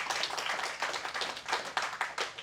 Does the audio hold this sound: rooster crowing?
no